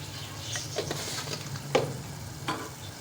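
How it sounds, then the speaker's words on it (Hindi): A spoon stirs spiced masala with Kashmiri chilli, salt and tomatoes in a pan, giving a steady close sizzle broken by a few distinct scraping strokes, with no speech. "अब इसको हम मिक्स करेंगे सारे मसाले को"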